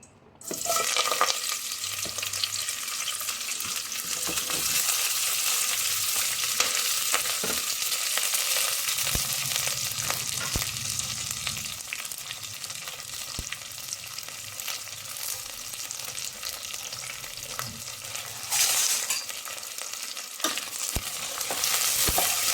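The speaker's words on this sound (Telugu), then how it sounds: "ఆయిల్ వేగాక ఇప్పుడు దీంట్లో ఎర్రగడ్డలు పచ్చిమిర్చి వేసుకుందాము" Onions and green chillies fry in hot oil, a strong, even sizzle that runs steadily throughout with occasional stirring scrapes and knocks, close and uninterrupted by speech.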